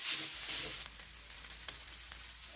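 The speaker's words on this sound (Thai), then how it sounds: "ผัดต่อให้แครอทก็สุกเลยนะครับแครอทสุกแล้วก็ใส่เส้นหมี่เหลืองที่เราคลุกเคล้าไว้ครั้งแรกลงไปเลย" Yellow noodles and carrot stir-fried in a wok, Southern Thai style, give a steady, soft sizzle with a few scraping stirs, close up and quiet, no voices.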